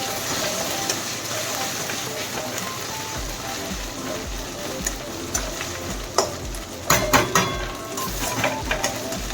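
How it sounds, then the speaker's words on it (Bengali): Panch phoron and ginger paste frying in oil, a continuous crackling sizzle with a few sharper spits and pops building toward the end, no talking. "পাঁচফোড়ন আর আদা বাটা এটা দিলাম, এটা ভাজা ভাজা হলে একটু ইচ্ছে করলে এটা সুন্দর গন্ধ বেরোবে।"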